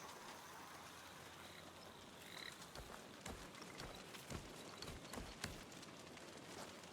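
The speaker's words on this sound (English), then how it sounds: "I think a frog's coming for us." Frogs croaking in a swamp in the video game Lords of the Fallen, repeated low croaks over a dense, steady background ambience.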